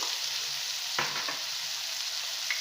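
Soya chunks and spices sauté in a pan for capsicum rice, giving a steady, close sizzle with a couple of soft stirring scrapes and no talking.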